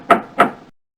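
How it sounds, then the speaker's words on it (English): Two crisp, evenly spaced raps of a door knocker from the 1993 PC game Aesop's Fables, each with a short ringing tail, loud and isolated before falling silent. "Door knocker"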